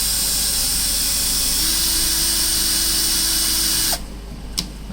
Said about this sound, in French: On va venir percer sur le milieu.